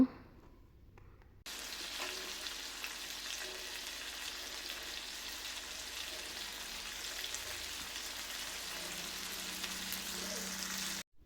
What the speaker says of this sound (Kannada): ಇವಾಗ ನೀಟಾಗೆಲ್ಲ ಫ್ರೈ ಆಗಿದೆ